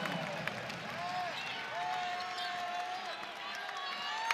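A home crowd at a women's college basketball game between NC State and Virginia Tech keeps up a steady roar of applause and cheering in an arena, with sneaker squeaks from the court and a commentator talking over it.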